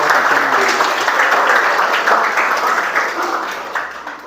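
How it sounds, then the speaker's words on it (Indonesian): Classroom applause at a vocational high school, SMK Negeri 1 Mandiraja, with many hands clapping steadily and loudly throughout, tapering slightly toward the end. "tepuk tangan."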